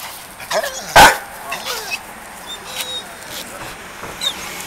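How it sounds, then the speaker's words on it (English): A dog playing with a bowling ball gives one sharp, loud bark, followed by scattered fainter yips and scuffs against faint background noise. "Look at this dog, loves the bowling ball."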